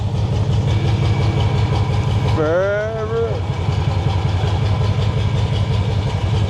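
A 1952 Ford Crestline engine runs at a steady, loud idle with a low rhythmic rumble throughout, briefly overlapped by a wavering tonal whine or voice partway through.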